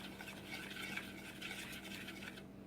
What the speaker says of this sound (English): So stir it really good so that all the sugar can dissolve.